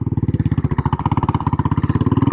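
A Royal Enfield Military Classic 500 motorcycle thumps along while being ridden, its single-cylinder engine giving a steady, close, loud pulsing beat with a slight rise in pace toward the end.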